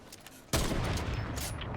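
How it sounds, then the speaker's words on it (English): A sudden loud burst of rapid automatic fire from a minigun or submachine gun in Fortnite, starting abruptly and continuing as a dense rattle to the end. "I think that's a minigun or a submachine gun"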